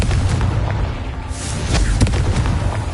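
Confringo spell explosions in Hogwarts Legacy, a run of loud booming blasts layered over dense low rumble, with a sharper burst near the middle and a few thuds following.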